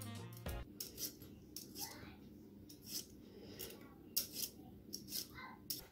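Small potatoes being peeled by hand, a series of short, close scraping strokes repeating at an uneven rhythm, soft and near, with quiet talk underneath.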